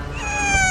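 A pet cat gives a single drawn-out meow, close and fairly loud, with a smooth, steady pitch and no talking over it.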